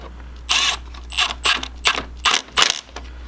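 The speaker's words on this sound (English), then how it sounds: "we're using the 8mm socket on this hose clamp to tighten it up" An 8mm socket ratchet tightening a hose clamp on the intake of a 2018 Honda Accord during a K&N air intake install: five short bursts of close metallic ratcheting clicks separated by pauses, over a low steady hum.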